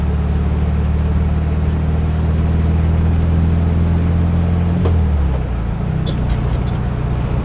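A 1974 Volkswagen Thing with a swapped engine drones steadily from inside while driving on the road, a constant loud engine hum that shifts pitch near the end as the gear changes.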